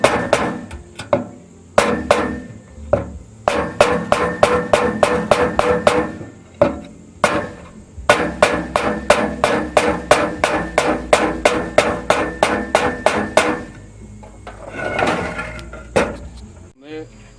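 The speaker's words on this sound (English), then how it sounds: "don't use a metal hammer unless you got wood" A hammer taps on a block of wood to seat the timing cover of a Jeep/Dodge 5.2 318 engine. The strikes come close and loud in fast, even runs with short pauses between them, and a voice talks briefly near the end.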